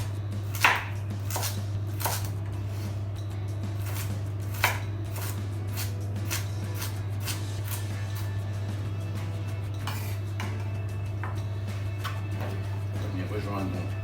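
A knife chops vegetables for a detox recipe, cutting slices about half a centimetre thick in a quick, irregular series of close, crisp taps on a board over a steady low hum.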